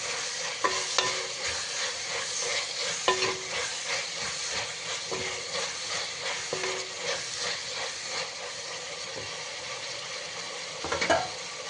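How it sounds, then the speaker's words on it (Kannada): Chicken sukka with mint fries in a pan while being stirred: a steady sizzling hiss broken by repeated scraping and clinking strokes of the spoon, with no talking. "ಇದನ್ನು ಕೂಡ ಚೆನ್ನಾಗಿ ಫ್ರೈ ಮಾಡೋಣ"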